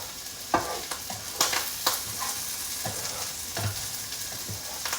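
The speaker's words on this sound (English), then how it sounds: "I'm taking all the ingredients away from the side of the fry pan as much as I possibly can" Chicken and bacon omelette ingredients stirred in a sizzling frying pan, a steady hiss of frying broken by several sharp scraping knocks of a utensil against the pan.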